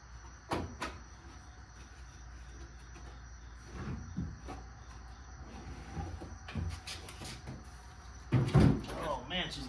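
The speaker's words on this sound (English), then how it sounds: "Oh man, she's got some heavy doors." Heavy doors on a Fox body car swing open and shut in a garage, several separate thumps and clunks scattered among quiet gaps, near, with a person talking now and then.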